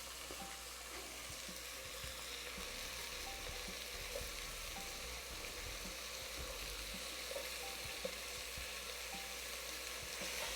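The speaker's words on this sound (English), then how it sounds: "I want to break that meat up as we put it into the" Ground beef browns in a pan for chili with a steady, soft sizzle, while a sturdy spatula breaks it up with scattered scraping and tapping sounds. Both stay fairly faint and continuous, and no one speaks.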